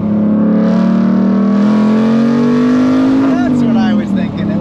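A car drives past close by, with a loud, sustained engine drone that rises slightly in pitch and then drops away as it passes.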